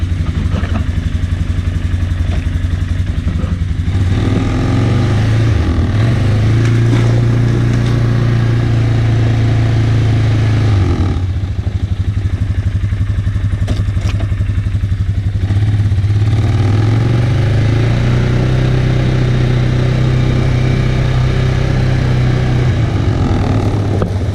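A 2019 Polaris Sportsman 450 ATV engine runs at a steady idle up close, a constant low throbbing drone with slight wavering and faint clatter throughout.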